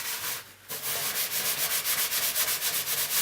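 A steel scourer is rubbed gently over an enamelled oven surface in close, even strokes, making a steady rhythmic scrubbing rasp after a brief pause at the start.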